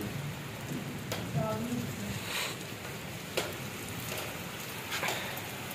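Rain falls steadily along a roadside route on the way to a political rally, a soft continuous hiss broken by occasional sharper drops and knocks, with a faint voice briefly in the background.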